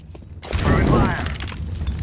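An incendiary grenade lands and bursts in CS:GO with a sudden whooshing crackle of flame that swells and then settles into a rough, sustained burning hiss after a brief quiet lead-in.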